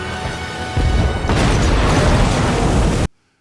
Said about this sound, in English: Everybody runs as the motel room explodes